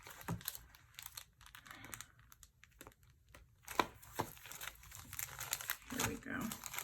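Crinkling and rustling as number stickers for a planner are pulled out of a pack, with scattered sharp peeling and tapping sounds and a voice talking quietly in between.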